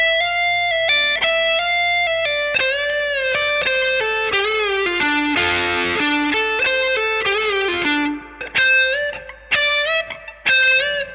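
Electric guitar with effects playing a lick, clear sustained notes with bends sliding between pitches, a quick flurry midway, then choppier short phrases toward the end.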